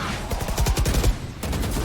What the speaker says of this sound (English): Oh, nice wall bang.